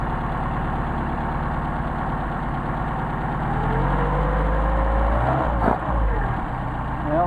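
Mercedes 190SL engine fitted with Solex carburetors idling steadily as it warms up, a loud, close, continuous rumble that rises slightly partway through with a brief dip near the end; no talking.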